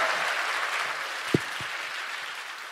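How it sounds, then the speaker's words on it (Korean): Live audience applause at a Korean stage comedy show, a soft, even patter of many hands from a modest distance, with one or two brief thumps partway through. "다시 한번 박수 부탁드립니다."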